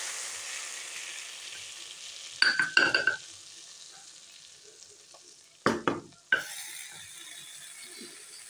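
Hot tempering of garlic and cumin poured into cooked lentils, giving two loud bursts of sizzling and spattering that fade quickly, with quieter background noise between them and no speech.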